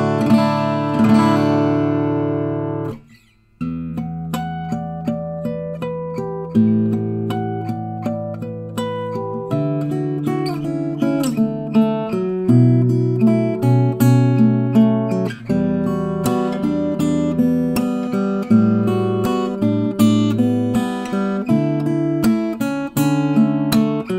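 A Takamine GY51E acoustic-electric guitar plays solo in clear, close picked and strummed notes and chords, with a brief silent gap near the start before the playing resumes steadily.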